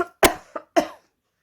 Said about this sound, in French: Et il se mit à tousser.